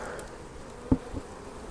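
Honey bees buzz inside an opened spring beehive, a soft, steady close drone, with a brief knock from handling the hive.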